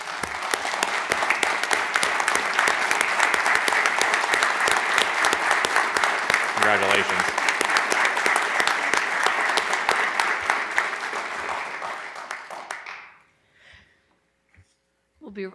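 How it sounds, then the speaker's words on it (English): A board meeting audience gives a sustained round of applause for honored officers, dense clapping holding steady for about thirteen seconds before fading to quiet, with a voice briefly heard over it. "Give them a round of applause"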